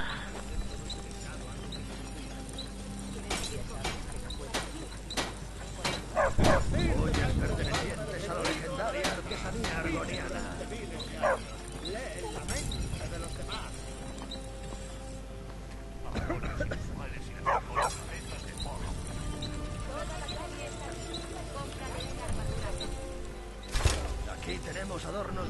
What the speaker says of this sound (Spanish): Ah, maldito perro.